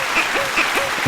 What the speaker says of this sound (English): Let's press the clapping button again